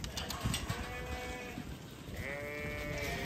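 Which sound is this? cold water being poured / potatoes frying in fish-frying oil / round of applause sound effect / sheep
sheep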